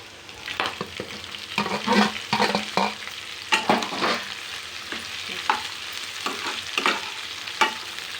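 Chopped vegetables are stir-fried on full gas for soybean fried rice, with a dense, busy sizzle and frequent scraping and tossing strokes throughout, no voices.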